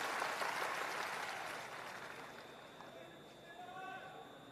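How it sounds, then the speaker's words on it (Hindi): A large crowd at a Bihar political rally claps loudly and steadily, the applause fading gradually, while a voice speaks underneath. "एक बार जोरदार ताली बजाकर इनका अभिवादन तो कीजिए।"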